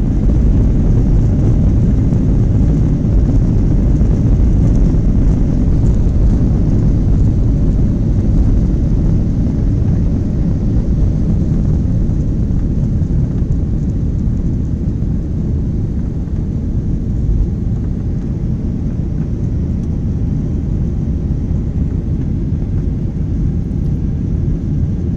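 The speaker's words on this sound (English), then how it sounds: "Taking off is always fun. It's you can feel the power of the plane" Passenger plane engines roar during takeoff, heard from inside the cabin on a London Stansted to Milan Bergamo flight, as a loud, steady, unbroken rumble lasting throughout.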